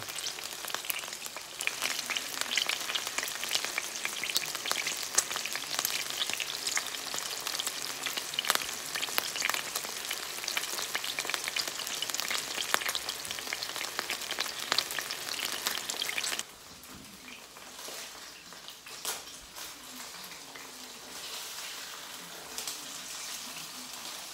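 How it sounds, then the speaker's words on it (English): Meat sizzles loudly in a hot pan with constant crackling pops, then the frying drops to a quieter, softer hiss for the last several seconds. "Look at that sizzle."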